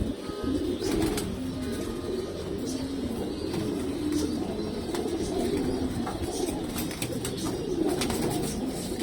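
Pure old-bloodline pigeons coo repeatedly in low, rolling phrases, steady throughout, with occasional wing flutters and soft bird chatter nearby.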